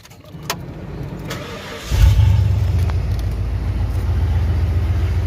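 A 1994 Ford F-150 truck starting up: a brief cranking whir, then the engine catches with a loud surge and settles into a steady, deep, rumbling idle, close and without talk.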